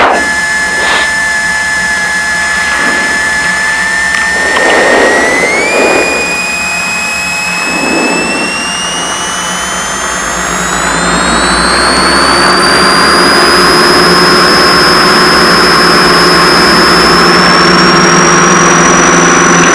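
A Piper Seneca twin-engine plane's engines roar loud and steady on the takeoff run, with engine tones rising in pitch as power builds and holding a sustained drone throughout.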